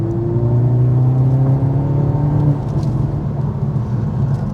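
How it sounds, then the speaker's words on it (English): A 2025 Mercedes-AMG C43 accelerates gently on a test drive, heard from inside the car. The engine note rises steadily over a couple of seconds, then settles into an even cruising hum. "I just barely rolled into the throttle"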